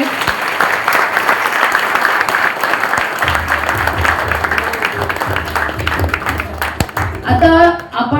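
A crowd applauds loudly and steadily at a ceremony honouring police officers, where a DCP returns stolen belongings to the complainants. The clapping is dense and continuous, and a voice briefly begins speaking near the end.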